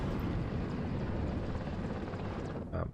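Mi-24 VP attack helicopter in the WARNO war game, a loud continuous rotor and engine drone holding steady over the whole moment, with a brief brighter burst near the end.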